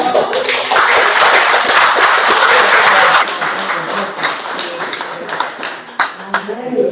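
A crowd applauding: dense, steady clapping that is loud at first, then thins into scattered claps with some voices mixed in.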